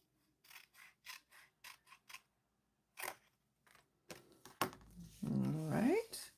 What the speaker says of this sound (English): So we're making a banner cut here.